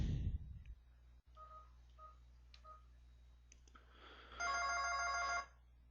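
A phone call placed inside a room over an Aruba wireless network: a few short dialing tones in a spaced sequence, then a louder electronic ringback tone sounding for about a second, quiet and close with a steady background hum.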